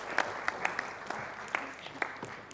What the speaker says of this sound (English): please can we give a round of applause to our next psychotherapist